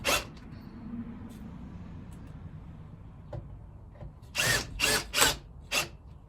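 Power drill driving short screws into small pilot holes in a porch post, heard as four short loud bursts near the end after a stretch of quiet background.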